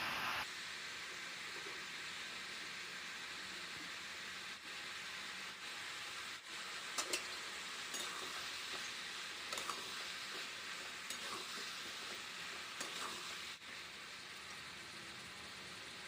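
Ash gourd curry being stirred in a pan, a steady soft scraping and gentle sizzle running continuously throughout at close range with a few brief clinks, no voices.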